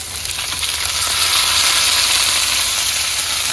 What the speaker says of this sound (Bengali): এই পাশে আবার পেঁয়াজ রসুন টালা হয়ে গেছে